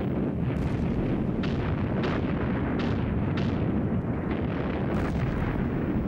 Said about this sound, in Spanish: se levantó la salva de cañonazos más tremenda que haya visto nunca